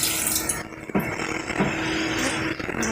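Water runs steadily into a cooking pot for aloo gosht shorba, a continuous close splashing pour lasting a few seconds with no talk over it.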